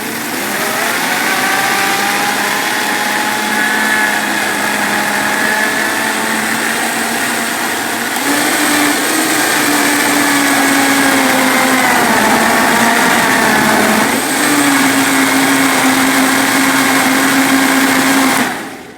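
A blender grinds a smoothie with papaya seeds, moringa and ginger continuously for nearly twenty seconds, loud and steady, its motor pitch dipping slightly as the load shifts.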